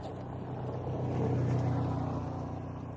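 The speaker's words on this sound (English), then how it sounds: "Oh, hold on, wait, these people drive by." A car drives past on a Houston street, its steady low engine rumble swelling slightly midway and then easing off, fairly close and with no talking.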